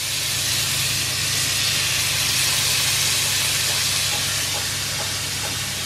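Continuous loud hissing sizzle of tofu frying in a hot pan for tofu sisig, steady throughout with a low background hum and no talking.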